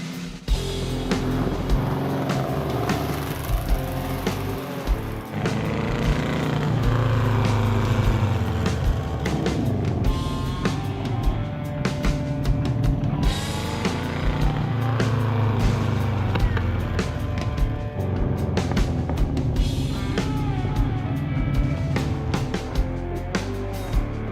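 A small custom car, miniature inside like a go-kart, is taken out for a drive. Its engine drones loudly and continuously while it revs up and down, with road and tire noise throughout and no talking.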